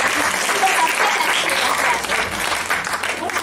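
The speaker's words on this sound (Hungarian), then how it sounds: "Nagy tapsot kérünk" A crowd at a Christmas show breaks into loud, sustained applause for the announced European championship winner, many hands clapping densely and evenly, with some voices mixed in.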